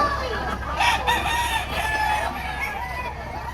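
A rooster crows at a busy chicken market in Lipa, Batangas, its call carrying over a constant din of other fowl clucking and a low crowd hum.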